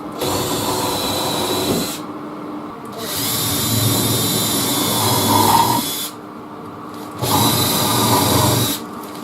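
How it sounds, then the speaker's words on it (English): Power drill counterboring and driving screws into a wardrobe board, loud whirring bursts of about two and three seconds separated by short pauses, close up and with no talk. "I'll counterbore all these lot and then screw in the bottom 2 inches"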